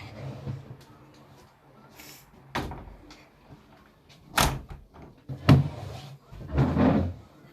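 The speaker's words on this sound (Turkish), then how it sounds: "Şu kapıyı da kapatayım ben." A door closing in a video game while a player builds a new character, heard as a few distinct thuds and clunks at moderate level over a quiet room background, with no talking.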